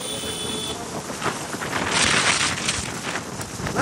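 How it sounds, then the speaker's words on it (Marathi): Strong wind gusts buffet the microphone on a hilltop during rain, a loud rushing roar that swells and fades in waves, with no voices. "वारा पण डेंजर आहे"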